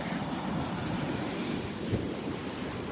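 Waves breaking on a beach in Naples, Florida, a continuous surf wash with wind buffeting the microphone, steady and fairly close.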